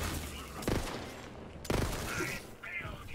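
Bursts of gunfire from the player's weapon in Borderlands 3, two sharp loud volleys about a second apart over a busy background of game sounds and music.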